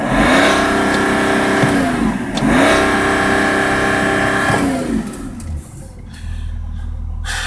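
A BMW 335d diesel engine runs close by, revving up in two rising pulls that each fall back before dropping to a low idle rumble at the end, loud and without talk.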